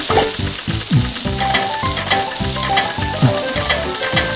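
Food sizzles loudly in a wok while stir-frying in the Cooking Mama video game, crackling and hissing in quick rhythmic bursts as it is stirred and tossed, with a faint repeating high beep in the background.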